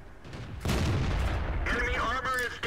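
A tank cannon fires once in World of Tanks, a sudden loud boom with a rumbling tail, followed by game sounds and a short burst of tonal effects.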